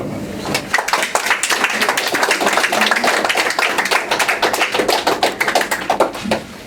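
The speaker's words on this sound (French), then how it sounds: "On peut applaudir" Applause at a religious wedding ceremony in a church, a loud, dense burst of many hands clapping steadily for several seconds before tapering off.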